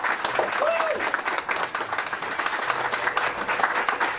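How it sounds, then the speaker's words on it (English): An audience at a live radio theater show claps for a performer at the close of the evening, moderately loud applause sustained throughout with a brief voice rising over it early on. "How about a big round of applause for Ray Ann for being awesome?"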